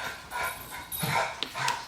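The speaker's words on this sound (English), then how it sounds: "I'm sorry if y'all hear my dog. He is being really feisty right now." A small, feisty pet dog yips and whimpers in short, fairly faint bursts in an indoor room, several quick sounds spread over two seconds with no talking.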